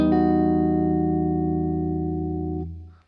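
A sustained open-E electric guitar chord rings out through effects with chorus and distortion, fretted for a song part, holding steadily and loud before fading out near the end, alone with no voice.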